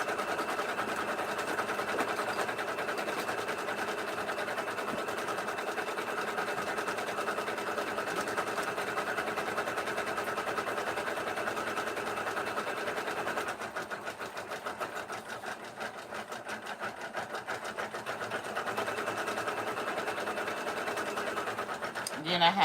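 An embroidery machine runs continuously, giving a fast, even mechanical chatter and hum that stays steady for a long stretch and shifts slightly in texture partway through.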